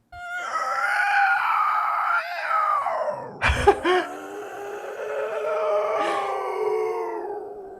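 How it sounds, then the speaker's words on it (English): Processed demon-like screams with added echo and deep rumble, sustained howling wails with a sharp distorted burst in the middle, loud and reverberant, no talking. "Here's a demonstration of how a sound mixer might take White's raw screams and add effects to make them more powerful"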